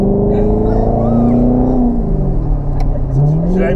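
A Corvette engine revs loudly and steadily up close, its pitch rising and falling through several sweeps with no break.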